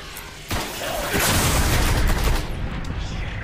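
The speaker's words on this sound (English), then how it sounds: "They're throwing nades." Grenade explosions and gunfire in the Destiny video game, a sudden loud burst followed by a sustained rumbling barrage of blasts and shots, close and heavy, with no talk over it.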